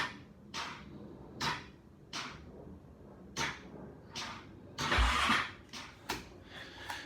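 A 2009 Honda TRX450R ATV that won't start cranks repeatedly in short, faint bursts, each stopping without the engine catching, close by and with no talk.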